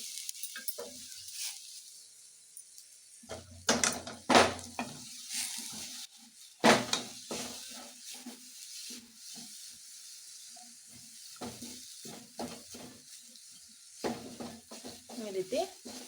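A spoon stirs dates and jaggery in a hot pan, the jaggery melting with a steady sizzle and hiss while the spoon scrapes and clacks against the metal in irregular bursts, close and fairly loud.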